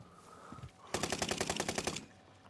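A rapid burst of automatic gunfire in the video game Warzone, about a dozen sharp, evenly spaced shots in roughly one second following a brief quieter sound, moderately loud with no talk over it.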